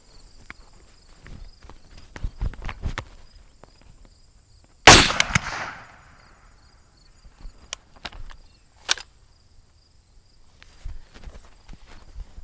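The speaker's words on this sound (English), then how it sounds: "Now with half a calculator and some hand sanitizer, I'm gonna blow the rest of the cards up." Firecrackers blowing apart leftover cards along with half a calculator and hand sanitizer, outdoors: one loud sharp blast with a brief crackling tail, followed by a couple of smaller pops amid faint footsteps and insect chirping.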